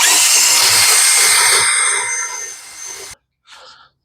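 A reamer cuts through a newly pressed bushing bore on a Chevrolet Aveo, giving a loud, bright scraping whir that fades before stopping abruptly, followed by a brief fainter scrape.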